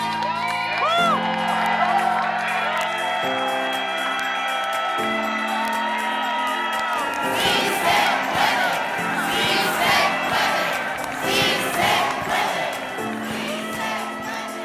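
A protest crowd of tenants rallying against landlords in Brooklyn shouts, whoops and cheers loudly and continuously, with voices chanting and rising together over a dense, close crowd roar.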